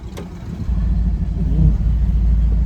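A 1970 Dodge Challenger T/A V8 rumbles loud and close, a short blip near the start giving way to a steady deep throbbing rev that swells slightly toward the end.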